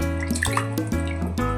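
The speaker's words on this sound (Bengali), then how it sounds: "এখন ভালো করে মাছগুলো ক্লিন করে নেব ধুয়ে।" Raw chewa fish being rinsed by hand in water for a bhuna, close splashing and sloshing with drips and clinks of a bowl, in short repeated bursts.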